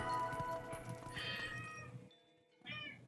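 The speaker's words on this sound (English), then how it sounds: "Hello, cat. Why are you screaming?" A cat screams with loud, drawn-out yowls: a long wavering cry, a brief pause, then a second shrill yowl close by, with no talking.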